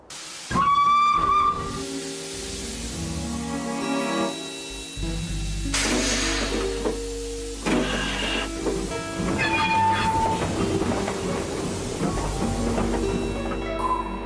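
A steam train chugs and hisses with a sustained whistle blowing over the rumble, the sound swelling as it draws nearer.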